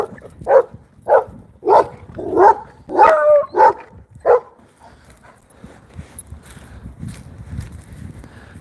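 A dog out on a walk barks seven times in a quick, irregular series, loud and close. Quieter rustling and footsteps follow.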